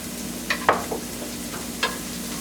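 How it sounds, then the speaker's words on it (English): Butter with a tablespoon of regular oil sautéing in a pan, a soft steady sizzle under a hum, broken by a few faint clicks and taps, close and without voices. "While that's going to saute"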